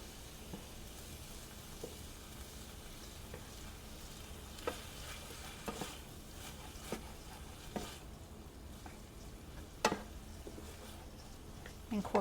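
Ginger, onion and garlic sizzle in a pan under a steady, soft frying hiss while being stirred, with occasional sharper scrapes and clinks of the utensil and no voices.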